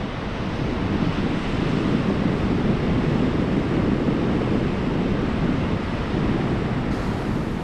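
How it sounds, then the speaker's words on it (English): Tidal bore waves surge up the River Severn with a steady, loud, broadband rush of churning water, blended with wind buffeting the microphone and holding constant throughout, with no voices. "This is a phenomenon known as a tidal bore."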